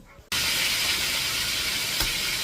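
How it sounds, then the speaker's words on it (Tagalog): Pork chop and longganisa sizzling in a frying pan for lunch, a steady loud hiss of hot oil that starts abruptly and continues without break, with a brief faint knock near the end. "Nagluluto na si Mama ng pritong pork chop at saka longganisa para sa aming tanghalian."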